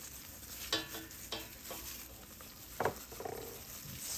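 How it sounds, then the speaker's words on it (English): Four cloves of garlic starting to cook in melted butter in a pan over medium heat, a soft low sizzle broken by several clicks and scrapes of a utensil against the pan. "Put 4 cloves of garlic in the pan."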